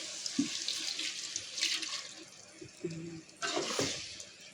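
Water pours from a tap-like stream into a pan of frying chicken curry masala, a broad steady rush with a few louder bursts near and close, while people talk in the background.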